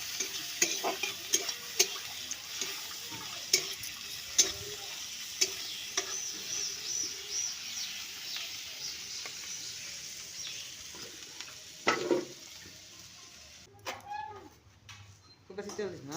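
Food frying with oil in a home kitchen, stirred as a father cooks with his daughter helping: soft sizzling with scattered scraping and clinking of the utensil, under intermittent talk and a few birds in the background.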